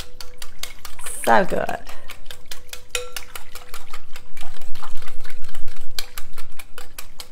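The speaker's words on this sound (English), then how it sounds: "And now we're gonna mix it up." A spoon stirs and mixes food in a pot, producing close, rapid rhythmic scraping and clinking against the metal, steady throughout, with a brief voice partway through.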